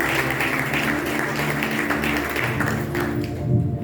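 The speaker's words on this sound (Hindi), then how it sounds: "आइए जोरदार ताली बजाएंगे प्रभु यीशु मसीह" A church congregation claps together in a dense, continuous patter of many hands, moderately loud and sustained for several seconds.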